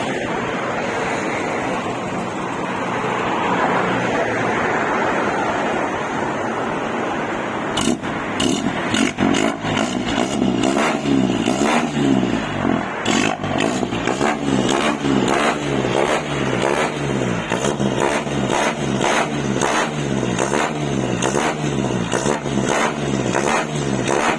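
An Isuzu NPR115 truck engine with a newly fitted exhaust system, muffler and 4-inch plated steel tailpipe idles with a deep rumble, then revs in repeated throaty bursts, loud and close with no talking.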